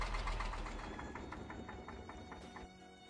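A vintage tractor engine in Farming Simulator 25 idles with a rough, knocking pulse that slows and fades as it shuts down, with no voices over it.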